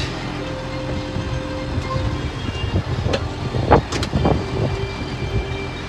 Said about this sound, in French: j'avance avec le tracteur, je déroule le tuyau.